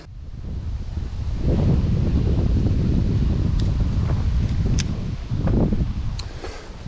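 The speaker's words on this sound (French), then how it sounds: "Bon là autant vous dire qu'il y a beaucoup de vent," Strong wind buffets the microphone beside a pond, a loud roaring rush that swells and dips with gusts, with faint rustling and brief clicks in between.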